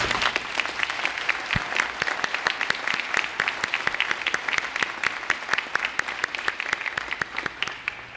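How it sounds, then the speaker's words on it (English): Commencement audience at Lake Washington Institute of Technology gives faculty and staff a round of applause, a dense, lively clapping from a large crowd in a big hall, steady and strong throughout. "I think they deserve another round of applause"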